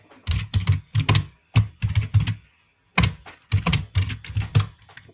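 HTML and CSS code is typed on a computer keyboard in quick, close, clacky bursts of keystrokes. There are short pauses between the runs, and no one speaks.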